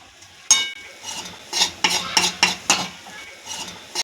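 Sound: stirring grated sweet potato with ghee in a pan

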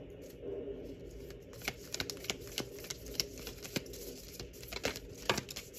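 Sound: shuffling tarot cards

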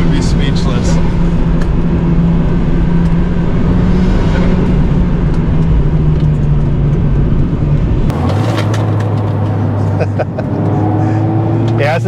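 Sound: Mazda Miata driving on a road

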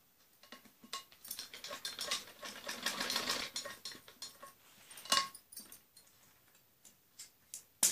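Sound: sewing machine stitching two blouse pieces together

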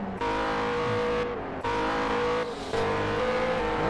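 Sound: race car engine revving, on board a P1 car

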